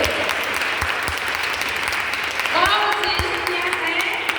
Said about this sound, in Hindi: अपने आप के लिए ताली बजाओ, जोर से जोर से।